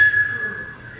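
A steady, thin whistle holds one high pitch for about a second, loud and near, with a faint low hum underneath and no talking.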